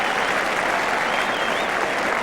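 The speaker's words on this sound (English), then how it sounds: "Half-time whistle almost drowned by the crowd." A football stadium crowd at a 1970s Spurs v Newcastle League Cup semi-final roars and applauds at half-time, a dense, loud, unbroken wash of clapping and cheering that fills the whole stretch.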